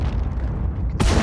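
A tank gun fires in World of Tanks gameplay: a deep, heavy rumbling boom that holds steady, then a sharper, louder blast breaks in near the end, close and with no talking.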